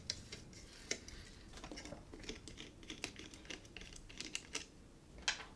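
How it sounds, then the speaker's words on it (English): Tape peeled off a Hornyphone Virtuoso WM9542A phone during repair: a run of soft, scratchy crackles and small ticks at close range, with a few sharper snaps, quiet and without speech. "First I remove the tape which is on here."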